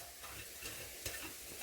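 Fresh fenugreek leaves drop into a pan of onion and garlic tempering and are stirred. The sizzle is brief and soft, with light scraping and no voices.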